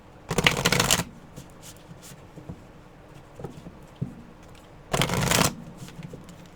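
Tarot cards shuffled in two brisk bursts, each about half a second of riffling flutter, with quiet handling taps and card shifting between them.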